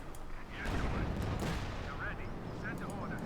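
Distant, muffled small-arms fire and artillery in a Company of Heroes 2 battle, a steady low rumble of shots running the whole way through, quiet and mixed with faint in-game voice calls.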